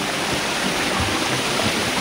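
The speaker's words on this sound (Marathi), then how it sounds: "जिथं हा धबधबा साधारण 30 फूट उंचीवरून पडतो आहे" A hidden waterfall in the Konkan hills near Chiplun drops roughly 30 feet, giving a steady, dense roar that fills the whole moment without pause or voices.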